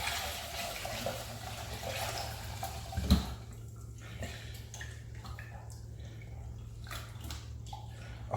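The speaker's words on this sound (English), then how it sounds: "Okay, so we're going to wash our quinoa now." Quinoa grains swished by hand in a bowl of water, giving a continuous soft watery sloshing with a low hum beneath and one small knock partway through.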